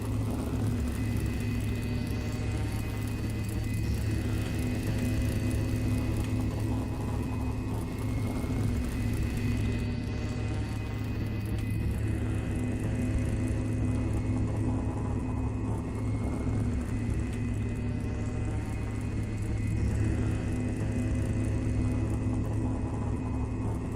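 Spaceship engines in the Starship Evo game burn at full power with a steady, loud rumbling roar and whir, a constant drone with rising tonal sweeps that holds unbroken throughout.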